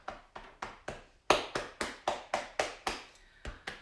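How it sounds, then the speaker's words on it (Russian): Open hands patting and tapping the chest over the lungs while seated on a chair, about a dozen crisp, evenly spaced pats in a steady rhythm, close and fairly loud. "Простукиваем, прохлопываем с другой стороны."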